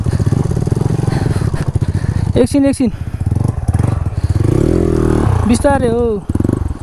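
A modified Honda dirt bike engine runs loud and close, customised in a KGF style. It holds a steady rumble with two sharp revving bursts, and people talk over it throughout.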